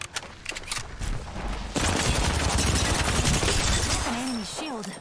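Rapid gunfire in Apex Legends, a dense burst of shots early on, then a sustained loud barrage with whooshing effects and ringing tones toward the end, and a voice faintly under it.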